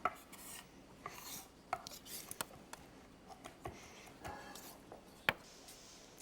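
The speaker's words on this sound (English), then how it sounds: "I'm gonna core it and seed it" A knife coring and seeding a tomato on a cutting board gives faint, scattered taps and scraping rubs at an irregular pace, with quiet kitchen background.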